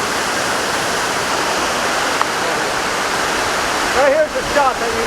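A steady, loud rush of a waterfall fills the whole span as a continuous wash of close, roaring water, with a brief voice-like sound rising over it near the end.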